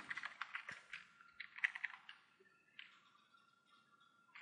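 Quick keystrokes on a computer keyboard while a course name is entered in an MLA paper, close and crisp in a fast run of taps that slows to scattered presses, with no talking.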